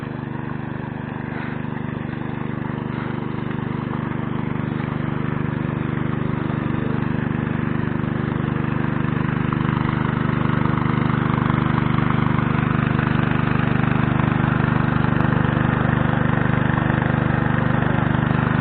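Engine-driven water pump drawing pond water up to rice paddies in Thailand, a loud, steady droning engine hum that runs unbroken throughout, close by, with no voices.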